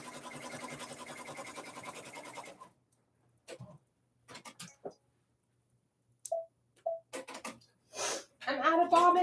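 Sewing machine stitching in a steady rapid run for a couple of seconds before stopping, followed by scattered clicks, handling noises and a voice speaking.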